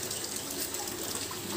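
Water gushes steadily from the opened lower tap of a bore-well water filter during a backwash flush, a soft, constant splashing stream without breaks.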